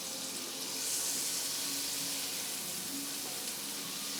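A second portion of margarine sizzles in a hot pan as a white sauce for chicken Alfredo begins, giving off a steady, soft, hissing fry that continues unbroken without talk.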